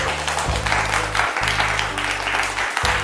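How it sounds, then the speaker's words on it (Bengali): A crowd at a jewellery store event claps loudly for a team, a sustained burst of applause over a steady musical backing, with no talk. "টিমের জন্য একটা জোরে হাততালি হয়ে যাক"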